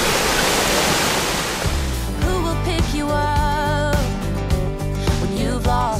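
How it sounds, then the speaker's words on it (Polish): Water crashes steadily down a waterfall, a loud, continuous broadband rush that gives way after about two seconds to a more tonal, humming texture underneath. "Pokażę Wam ten wodospad jeszcze."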